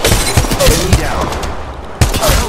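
Rapid gunfire in Apex Legends Mobile, a burst of sharp shots followed by a few isolated cracks, loud and close amid game effects, with speech layered in.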